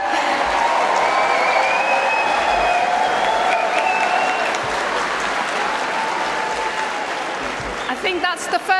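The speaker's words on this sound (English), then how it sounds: "I think that's the first time ever our screens got a round of applause." Sustained applause from a large audience at a Labour Party annual conference hall, dense clapping filling the room for about eight seconds, then thinning into scattered final claps with a murmur of voices.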